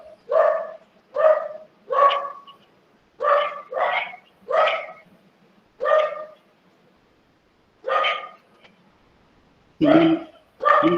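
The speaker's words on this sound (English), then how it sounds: "The dog is agreeing to that." A dog barks in a steady series of about a dozen loud, close barks spaced roughly a second apart, with brief pauses, heard alone without talk.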